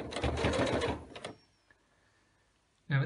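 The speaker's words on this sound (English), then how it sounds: "Loop the elastic round, feed it into the opening and stitch it in." Sewing machine stitching elastic into a fabric mask, a short fast rattling burst of stitching that stops abruptly, then near silence before a brief restart at the end.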